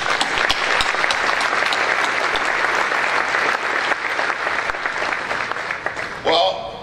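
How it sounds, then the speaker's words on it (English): Steady, sustained applause fills a chamber of commerce dinner hall, a dense crowd clapping continuously for several seconds before it tapers off at the end. "I'd like to give a round of applause to those Scheffler employees who are representing"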